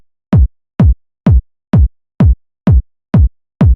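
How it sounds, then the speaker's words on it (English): Eight short, tight tech house kick drums shaped with Shaperbox hit in a steady, evenly spaced pattern, each punchy and clipped with little low-end tail, loud and alone. "So now this is a super short and tight kick"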